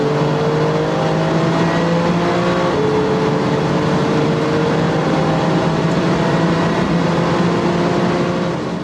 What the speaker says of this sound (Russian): Porsche 911 GT2 RS. Самый быстрый серийный 911 в истории.